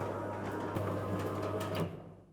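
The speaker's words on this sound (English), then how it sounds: "To set the top limit, use the up arrow until the door reaches the fully open position." A RollMatic T electric roller door motor hums steadily as it raises the door to its fully open position, a low continuous drone with faint rattling that cuts off near the end and fades away.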